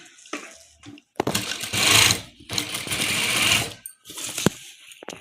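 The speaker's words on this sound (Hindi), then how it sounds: "इसकी ना स्टिचिंग की सिलाई लगानी है" A sewing machine stitches the neckline of a kurta in two long bursts of close, steady whirring, with short stops and faint handling clicks between runs.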